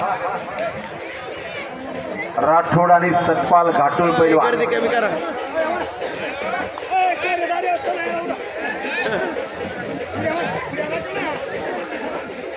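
Dense crowd chatter and babble fills a packed village wrestling tournament at a temple fair, with a commentator talking over the continuous hubbub throughout.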